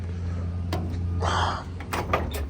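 The door of an old, weathered Dodge truck opens with a short creaking, scraping rush of sound against faint background noise, followed by a few light clicks and knocks.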